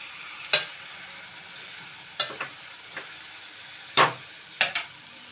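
A spoon stirring a thick tomato and drumstick curry in a pan, with several distinct scraping clacks spread over a faint sizzle, no talking.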